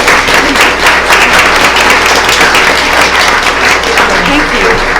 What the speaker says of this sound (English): Please join us in applauding these staff members for their assistance this evening.